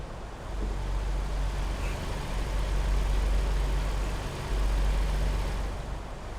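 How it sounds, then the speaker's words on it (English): A heavy diesel truck with a Caterpillar engine of about 600 horsepower drones steadily with a deep low rumble, loud and close, throughout. "It's probably, I think it's 600 horsepower, but it's probably a cat engine"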